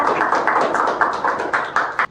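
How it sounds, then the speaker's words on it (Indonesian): Applause for a retiring teacher from SMA Negeri 1 Lubuk Alung, heard as a steady round of clapping from a small group, close and moderately loud, with rhythmic peaks and no talk over it. "kita berikan tepuk tangan dulu untuk Bapak Sunda"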